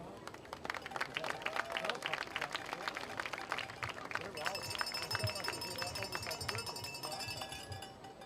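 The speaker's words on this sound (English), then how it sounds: "join me in giving a round of applause to these outstanding senior athletes" A crowd claps and applauds senior athletes at a Fairland Dragons vs Chesapeake Panthers school sporting event. Steady, fairly faint clapping with crowd murmur is heard from a distance.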